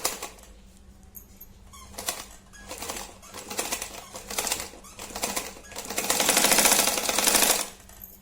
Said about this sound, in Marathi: टाचणी लावल्यानंतर असे इथे सरळ शिलाई घेऊन घ्यायची